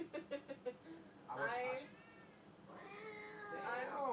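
A person says a few words before a cat lets out two long, loud, drawn-out meows close by, the second one lower and growling.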